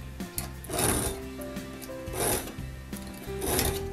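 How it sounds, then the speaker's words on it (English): A file works the inner spur of a metal cutter in three slow, close rasping strokes with short pauses between them, while a steady mechanical hum runs underneath. "I'm filing the spur on the inside"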